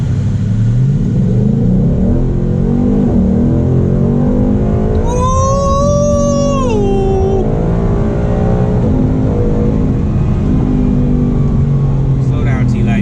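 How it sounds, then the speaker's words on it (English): A Mustang GT 5.0 engine drones loud and steady underneath, rising and revving as the car accelerates, while people talk and exclaim over it and a brief high whistle-like tone slides across the middle. "I know y'all hear that motor. Man, this thing sounds good."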